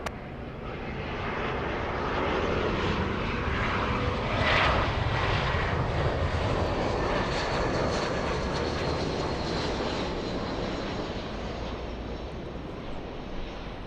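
An airliner taking off from runway 24 Left at LAX gives a loud continuous jet roar with rushing hiss, swelling near the middle and holding steady, heard outdoors without talk.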